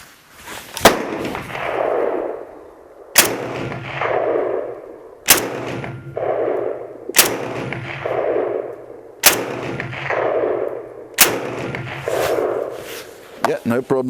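A Type 97 Gen 3 rifle loaded with a GI magazine fires six sharp shots at regular intervals of about two seconds, each followed by a rolling echo. A quick flurry of clicks and handling noise comes at the end.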